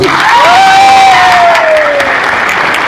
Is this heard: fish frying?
no